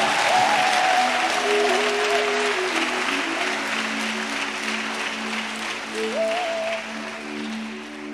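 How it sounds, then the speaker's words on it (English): A church congregation claps in sustained, dense applause for about eight seconds at a TB Joshua Emmanuel TV service. The clapping stays steady and loud throughout, with faint tonal music or singing beneath it. "If that is how you are clapping for Jesus"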